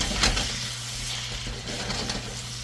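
Smoked turkey necks sizzle on a Pit Boss pellet grill as a spatula stirs them, giving a steady hiss with a few soft scrapes and one clink near the start, close and moderately loud, with no talk.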